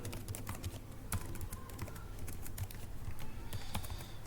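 Quiet, steady typing on a computer keyboard as code is entered, with rapid soft key clicks in an irregular rhythm, close and faint with no talk.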